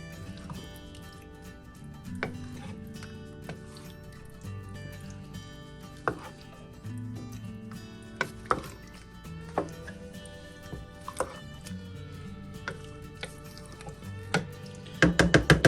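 A spoon stirs thick butternut squash chili in a pot, producing soft wet squishing and scattered light clicks and taps against the metal, with a quick flurry of knocks at the very end.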